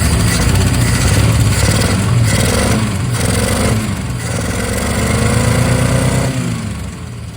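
A rare 1964 Plymouth Valiant slant-4 engine, long abandoned with a dead cylinder, runs loud and rough close up, its uneven firing lumpy and unsteady, with a few revs rising and falling over the clatter.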